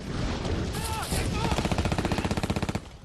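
Rapid WWII infantry rifle and machine-gun volleys from a battle game set in the Ardennes, a dense rattling burst of repeated shots building to a steady pulsing rhythm, loud and close, with shouted commands over the first part.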